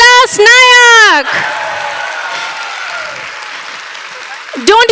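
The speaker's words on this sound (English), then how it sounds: "Can we have a big round of applause for Vilas Nayak?" A convention audience breaks into applause and cheers after a live painting performance, a broad steady wash of clapping following a loud voice and returning under talk at the end.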